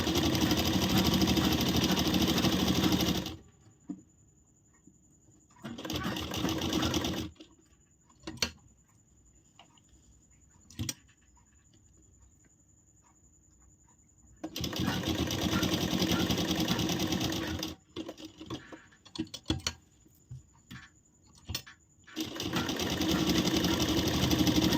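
A sewing machine runs in long steady bursts while stitching a blouse's lining to its main fabric, separated by quiet gaps with occasional clicks, close and loud.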